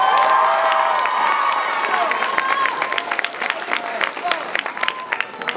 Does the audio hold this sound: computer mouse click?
no